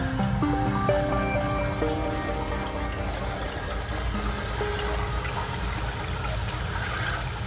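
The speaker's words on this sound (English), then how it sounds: "Our tank is filling for the first time." Steady rushing and trickling of water filling a toilet tank, continuous and fairly loud, with a few tonal hums and ringing notes in the background.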